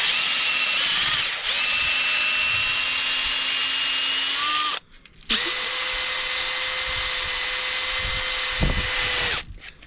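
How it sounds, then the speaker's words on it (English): A power drill spins a bolt wrapped in sandpaper for Nissan 300ZX twin turbo brake work, a loud steady high whine that cuts out briefly, then resumes at a higher pitch before stopping. "you fit your bolt in your drill"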